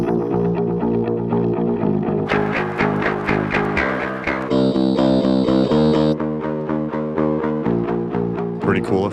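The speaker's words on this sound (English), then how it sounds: "Let's go to the effects for the verse. Let's just choose some of these lo-fi ones." Lo-fi effects processing colors a looped track on a Sheeran Looper X, giving a warbling, filtered texture over steady rhythmic music that plays continuously up close, with some distortion and chorus character.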